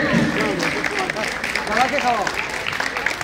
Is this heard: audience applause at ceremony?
yes